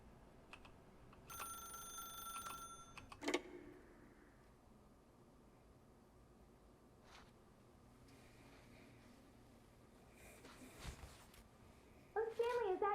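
In The Stanley Parable: Ultra Deluxe, a telephone gives a short electronic ring early on, followed by faint clicks and a brief warbling tone near the end, with a spoken voice in between.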